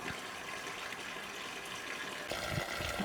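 A pump on a boat discharges water through a hose pipe, giving a steady, close rushing and gushing that swells slightly louder partway through.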